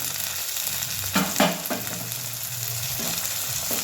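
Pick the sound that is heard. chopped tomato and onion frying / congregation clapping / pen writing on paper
chopped tomato and onion frying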